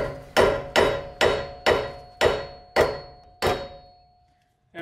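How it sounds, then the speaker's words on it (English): A hammer drives a bolt out of a tie rod joint on an AU Falcon, seven evenly spaced sharp metallic blows ringing briefly after each strike, close and loud with no talk. "hammer that bolt out"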